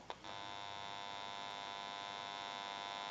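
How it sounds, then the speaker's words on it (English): The amplifier of a GE 6.0 model 27909 cordless telephone gives off a faint, steady electrical hum that holds evenly throughout, with a small click at the start and no voices. "You may hear a little bit of an electrical hum."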